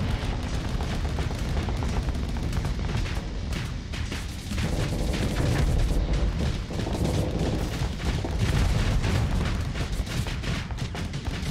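Anti-armor mortars in the Starsector game fire in dense, dull, rumbling booms and thuds that overlap into a continuous barrage of battle noise, loud and sustained throughout without a clear pause.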